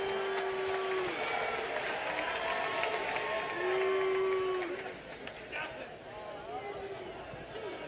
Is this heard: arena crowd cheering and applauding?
yes